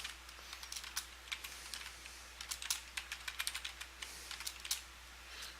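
Quiet, irregular clicks of typing on a computer keyboard, with short bursts and single key taps spread across the stretch over a low steady hum.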